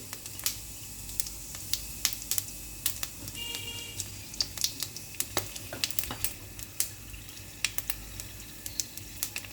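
Bay leaf, cumin and cloves sizzle in hot oil in a kadai for a prawn malaikari curry: a steady crackling hiss dotted with sharp pops and spits throughout, close by and with no voices.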